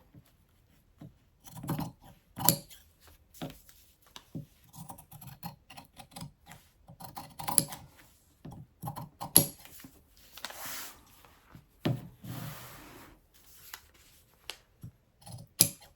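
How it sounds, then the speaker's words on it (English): Fabric shears snip through denim for a skirt, a string of short, crisp cuts and rustles in irregular bursts with quiet gaps, close by and fairly soft, with no talk. "I'm actually cutting out with shears and not with a rotary cutter"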